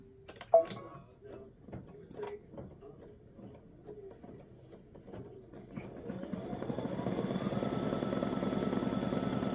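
An embroidery machine stitches down fabric during a color stop on a Memorial Day sacrifice panel, starting about two-thirds through as a steady, rapid mechanical whir that builds and holds after earlier quieter handling noises and faint talk.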